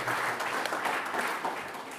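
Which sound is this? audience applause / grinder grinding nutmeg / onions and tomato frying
audience applause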